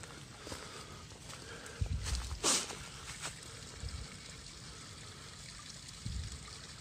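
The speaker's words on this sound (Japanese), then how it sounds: "これが鎧の滝だっけ。" Water from the Yoroi waterfall in Japan flows in a soft, continuous, distant-sounding trickle, with a few faint footsteps or bumps and no talking.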